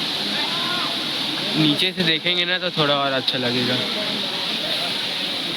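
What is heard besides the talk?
waterfall, water flowing down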